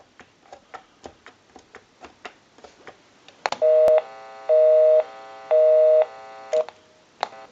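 A repaired European-style telephone dials a call, giving a run of quick regular clicks. Three loud, evenly spaced ringback tones follow, each about half a second long with short gaps between them.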